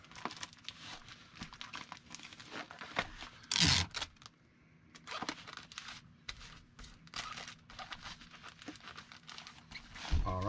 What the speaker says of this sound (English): I'll come back on this end and tape these corners down